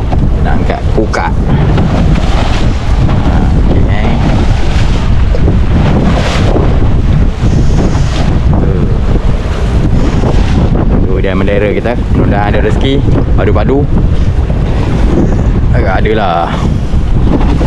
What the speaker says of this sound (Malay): Nak mancing pun payah air gelora macam ni.